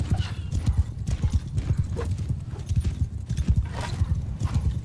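Horses gallop in a medieval battle in Mount & Blade II: Bannerlord, a dense continuous drumming of hooves close by, with a whinny in the mix and a loud busy background.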